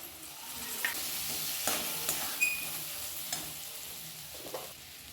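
Chopped tomatoes drop into a frying pan for a jackfruit curry, setting off a quiet, steady sizzle broken by a few soft clinks and stirring taps.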